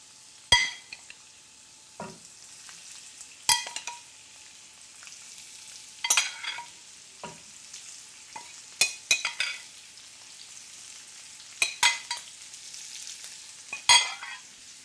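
Prawns and spices sizzle in a hot pan, fairly quiet, with a low steady fry broken by sharp scrapes and clinks as they are stirred every second or two.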